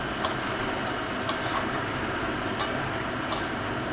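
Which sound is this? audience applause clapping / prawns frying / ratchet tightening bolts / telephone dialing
prawns frying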